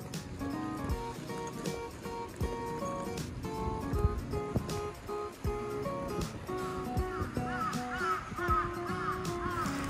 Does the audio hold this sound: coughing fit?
no